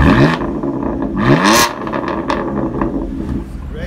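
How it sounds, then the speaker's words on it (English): A 2017 BMW M4 with the M exhaust package revs hard, sharp rising throttle blips cutting through a throaty idle, the exhaust loud and close with brief pops and whirs between revs. "Listen to the sound of the exhaust."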